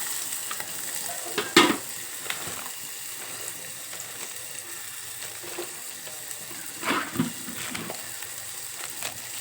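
Onions and green chillies fry in a pan for gongura pachadi, giving a steady close sizzle broken by a few sharp scraping stirs near the start and again past the middle.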